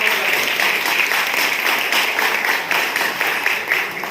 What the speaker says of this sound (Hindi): ताली बजाओ तो जोरदार बजाओ